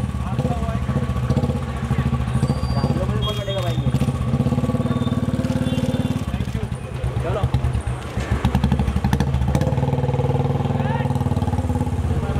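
A Royal Enfield Bullet motorcycle on a Mumbai street, its engine thumping steadily and loudly throughout with a rising rev partway through, under crowd noise and people talking and shouting nearby.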